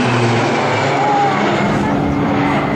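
Roulettes 1 through 4, RAAF display aircraft, fly past at an airshow at Point Cook, a loud, continuous propeller-engine roar holding steady throughout.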